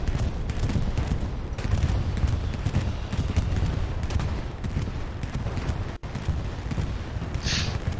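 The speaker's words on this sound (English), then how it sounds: "Bombing run coming in." Explosions and gunfire from a bombing run in the World War II shooter Hell Let Loose fill the whole stretch as a dense, continuous barrage of booms, with a brief cut near the end.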